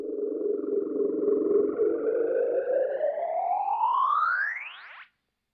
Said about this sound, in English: that could be a cool little noise effect